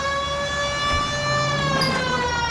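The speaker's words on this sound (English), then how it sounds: "Cole, turn on the siren and pull her over." A police car siren in the video game L.A. Noire wails steadily with a sustained, slightly shifting tone over a low engine rumble, loud and close throughout.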